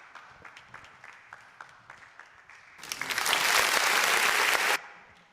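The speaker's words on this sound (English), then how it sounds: "Clap for yourselves." A few scattered claps at a seminar give way to a full burst of audience applause that holds loud and dense for about two seconds, then cuts off abruptly.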